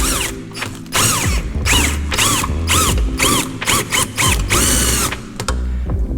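A power tool whirs and ratchets in loud repeated bursts, spinning a seized ball joint in place on a 2012 Subaru Forester during front suspension work, with steady mechanical rattling and pauses between pulls.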